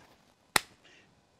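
A single sharp hand slap of a high-five between two men, one crisp close crack standing alone against quiet surroundings.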